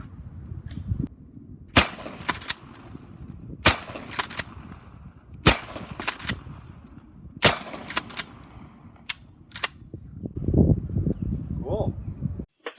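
Suppressed shotgun fired with an Aklys Defense suppressor outdoors, a series of sharp cracks at uneven intervals, roughly a dozen shots spread across the span, with quiet rustle and faint talk between them.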